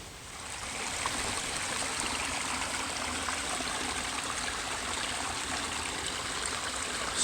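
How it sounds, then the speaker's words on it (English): A small creek flows steadily beside a campsite along the Old Loggers Path, a continuous close wash of trickling, rushing water that holds even throughout with no voices. "A little creek that we're near."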